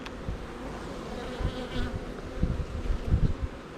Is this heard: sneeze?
no